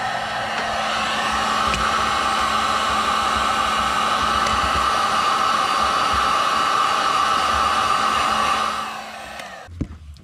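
A heat gun blows a steady, loud, close whooshing roar while shrinking heat-shrink tubing over crimped wire connectors during engine wiring, then it cuts off near the end with a small clunk.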